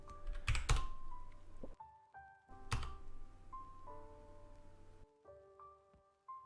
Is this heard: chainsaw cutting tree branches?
no